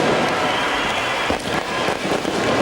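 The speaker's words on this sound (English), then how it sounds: "Just delay there whilst all the fireworks go off here at Headingley." Fireworks set off at Headingley stadium just before kick-off of a 1997 rugby league match, heard as a dense, steady roar of crackling bursts and pops that fills the whole stretch, with no voice over it.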